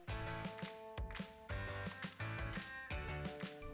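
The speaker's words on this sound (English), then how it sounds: "take this over to our sewing machine and follow this outside rectangle here with a straight stitch" Sewing machine running a straight stitch, with quick rhythmic mechanical clatter in bursts and brief pauses between runs, close and fairly quiet, no talking.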